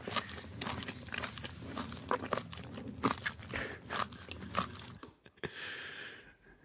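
Live octopus chewed up close in Korea: wet, crunchy bites and squelching mastication repeat for several seconds, then cut to a quiet hiss at the end.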